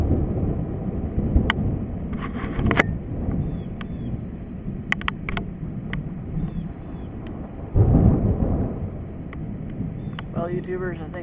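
Thunder rumbles through a storm in tornado country, a broad low roll with a heavier crash near the end, mixed with wind and rain noise and faint talk in places.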